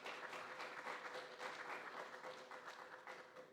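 Applause from an audience at the launch evening of a 2017 film festival, steady sustained clapping from a full room lasting several seconds, moderately distant and even.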